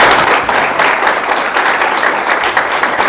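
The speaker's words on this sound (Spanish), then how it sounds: "Un aplauso para el decano, por favor." Warm applause for a law school dean at a formal ceremony, a steady wash of many hands clapping at close range with no pauses, no speech over it.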